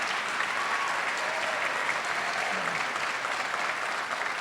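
Steady, dense applause from a ceremony audience at a medical school white coat ceremony in Southern Utah, sustained and evenly loud throughout with no talk over it.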